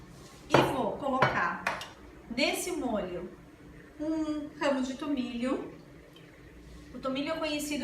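Metal pots and pans clink and utensils scrape as cooked beef for a pot pie goes back into the pan, intermittent clatters heard under a person talking throughout.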